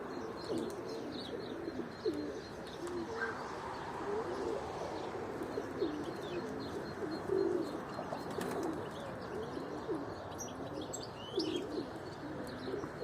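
Domestic tumbler pigeons in a loft cooing in soft, repeated low throaty phrases, with a few chirps and brief wing flutters, steady and close throughout with no talk.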